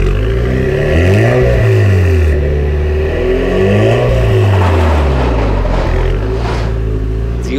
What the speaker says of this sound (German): Du hast jetzt so ganz dezent mal Gas gegeben.